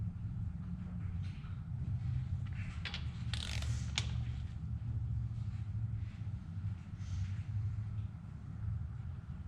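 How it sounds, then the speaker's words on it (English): A torque wrench tightens connecting rod bolts in stages during a Ford 289 engine rebuild, giving soft ratcheting clicks and brief mechanical bursts midway over a steady low workshop rumble. "I like to do this in stages, 5, 10, 15, and then the final torque at 22."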